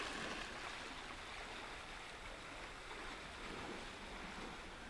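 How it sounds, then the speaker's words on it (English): Waves wash over a rocky shore on Anglesey, a faint, steady hiss of surf with mild wind noise and no voices. "So now it's just wait for a wave"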